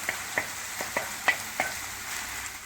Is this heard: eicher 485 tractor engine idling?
no